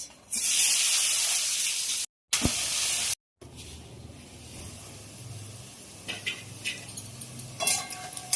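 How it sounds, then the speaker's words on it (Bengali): Hissing spray of chopped onions dropped into hot oil, loud at first with brief gaps, then settling into a softer sizzle with a few clinks of utensils. "ওই তেলের মধ্যে দিয়ে দেবো কুচনো পেঁয়াজ"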